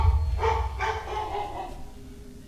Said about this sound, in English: And we have a barking dog.